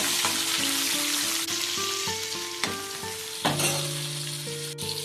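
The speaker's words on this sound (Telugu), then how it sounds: "అన్నీ కొద్దిగా నూనెలో మగ్గితే బాగుంటుందండి టేస్ట్గా" Finely chopped tomato softening in a little hot oil, with a steady close sizzle and frying hiss throughout and occasional brief stirring clatters.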